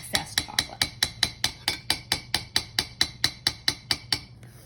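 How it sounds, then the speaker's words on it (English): Coconut logs dipped in melted chocolate are tapped repeatedly against a bowl or utensil to shed the excess, making about fifteen quick, even, sharp taps close up with no talking. "I'm going to flip it, and then I'm going to tap the excess chocolate"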